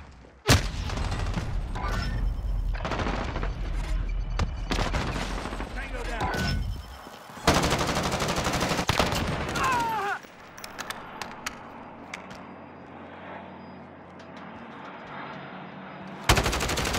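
Heavy video game gunfire in sustained automatic bursts, loud and close, dropping to sparse scattered shots and quieter ambience before a final burst.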